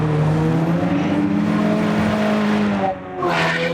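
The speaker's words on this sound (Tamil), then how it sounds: "பாருங்க, என்கிட்ட ஒரு கார் இருக்கு, அந்த காரோட சவுண்டு கேளுங்க." A car in a video game revs and roars with tyre squeal and skidding, loud and close, its engine tone wavering before a brief dip and a fresh surge near the end.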